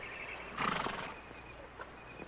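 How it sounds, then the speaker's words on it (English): A horse gives a short whinny, with faint hoof clops afterward against a quiet background. "Beautiful horse."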